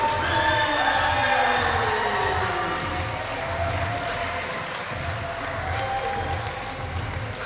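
A wrestling crowd cheers and applauds at a live match, a loud, dense roar of claps and voices sustained throughout, swelling and easing slightly.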